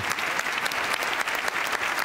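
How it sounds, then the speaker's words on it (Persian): A studio audience at a Persian television show applauds Hamed, steady, dense clapping that stays loud and close throughout with no talk over it. "حامد جان رو تشویق کنید"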